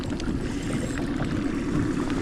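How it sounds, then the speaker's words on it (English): A low, steady rumble of a small fishing boat's engine idling nearby during trout fishing, with water and wind noise washing over it and no voices. "Turn off the engine, we'll hear what we're saying."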